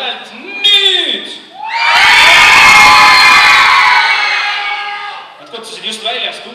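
A hall full of children at a youth talent show erupts into loud sustained shouting and cheering for a noise contest, bracketed by short bursts of an announcer talking over a PA.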